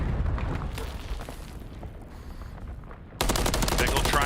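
Bursts of gunshots in a Call of Duty match during a competitive league qualifier, rapid automatic fire that thins midway, then a sharp, loud volley at the end.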